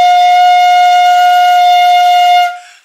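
A shinobue bamboo flute holds one steady, pure note, blown softly and evenly for about two and a half seconds before tapering off, with no voices.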